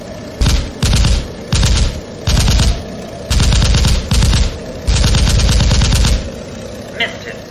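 Staged machine-gun fire from a theatre production of The 39 Steps: short rapid bursts repeat in an uneven rhythm, loud and close, followed by a faint tail.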